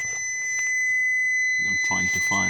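Steady high-pitched warning tones from a Nissan Murano's headlights-on reminder, a few pure beeps held under someone talking nearby.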